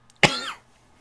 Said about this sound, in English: Sometimes my acid reflux acts up and it makes me cough.